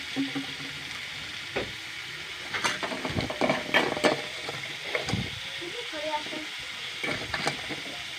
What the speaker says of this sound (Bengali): একটু নুন দিয়ে দিলাম, পেঁয়াজটা তাড়াতাড়ি ভাজা হয়ে যাবে।